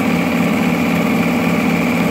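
A car engine idles steadily at 900 RPM during an ignition timing check, a continuous even hum with a faint rapid ticking pulse, close and unbroken.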